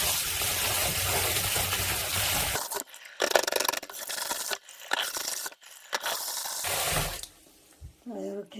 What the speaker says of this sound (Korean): 깨끗이 씻어서 찬물에 담궈서 30분간만 불려줍니다